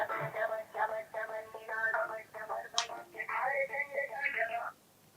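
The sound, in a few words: telephone call ringing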